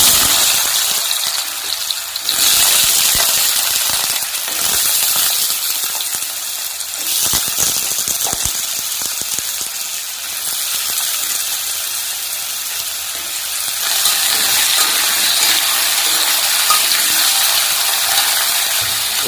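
Potato pieces frying in hot oil for a Bengali mixed-vegetable dish, a loud continuous sizzle and crackle with occasional stirring clatter, close up and without talk.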